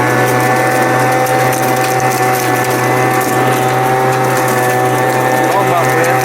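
Proyama handheld blower in vacuum mode sucks up wet leaves around a tree, giving a loud, close, continuous motor whine that holds steady throughout with no talk.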